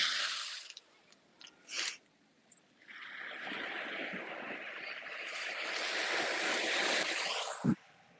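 Ocean waves washing onto a shore, a broad steady roar that builds after a few seconds of quieter surf with brief bumps, mixed with wind buffeting the microphone.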